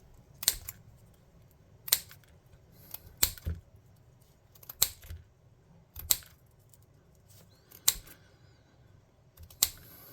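Bricks for tabletop ruined-building terrain are cut with sharp, crisp snips that come one at a time, about eight spaced cuts with quiet handling in between.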